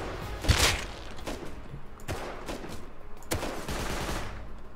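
Gunfire in the video game Rust, several loud sharp shots spread across a few seconds over steady in-game ambience, with one heavier bang near the start.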